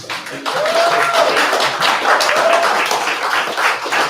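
Audience applause at a comedy open mic in a brewery taproom, a dense burst of clapping that starts abruptly and holds steady and loud, with faint voices and a whoop or two mixed in.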